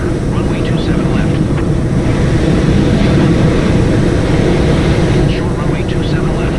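An American airliner holding on runway 27 left at Philadelphia in a flight simulator game, a loud steady engine roar throughout with a faint voice underneath.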